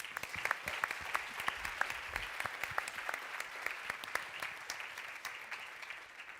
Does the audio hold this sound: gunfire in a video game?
no